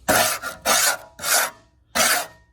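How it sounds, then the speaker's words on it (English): A Land Rover fuel tank is scraped down by hand, giving four long, loud, close rasping strokes with brief pauses between them and no talk. "I'm going to scrape this down"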